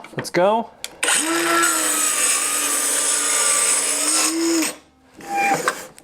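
A Dremel Blueprint portable saw with a small blade cuts a 30-degree bevel: a loud, high motor whine spins up, runs steadily through the cut for a few seconds, then winds down, with brief talking before and after.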